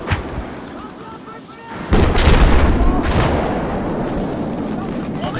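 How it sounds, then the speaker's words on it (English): A UCAP explosive charge detonates in Battlefield 4 multiplayer conquest on the Lumphini Garden map, a sudden loud boom that cuts in about two seconds in and rolls into sustained rumbling blast noise, following quieter game ambience. "I think I prematurely detonated my UCAP."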